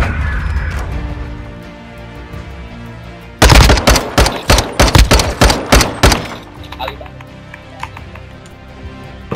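Loud burst of rapid automatic gunfire in Modern Warfare 2, a string of sharp close shots lasting a few seconds after a quieter rumbling stretch, then fading into softer scattered game sounds.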